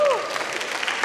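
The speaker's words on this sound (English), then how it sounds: "a round of applause" Students at a high school senior class assembly clap together in a steady, moderately loud burst of applause, with a few voices mixed in.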